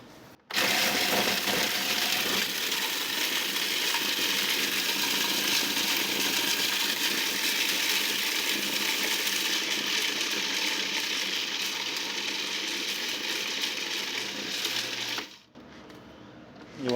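A food processor whirs steadily for about fifteen seconds while it chops cauliflower with onion powder and garlic powder. The motor is loud and continuous, then cuts off abruptly near the end.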